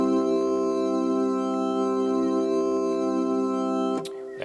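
Technics U90 electronic organ with its chorus effect imitating a slow Leslie rotor, a steady sustained chord gently swirling and wavering for about four seconds before cutting off with a faint click.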